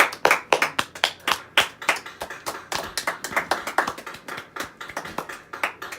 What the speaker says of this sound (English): Enough clapping.